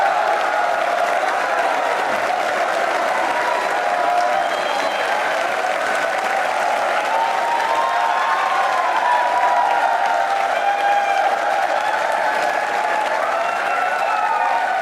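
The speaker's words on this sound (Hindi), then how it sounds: "तो पहले इनके सम्मान में जोरदार तालियां बजाइए आप प्रधानमंत्री" An audience in a television studio gives loud, sustained applause in honour of the Prime Minister, a dense even roar of clapping with some cheering and a faint tonal hum beneath.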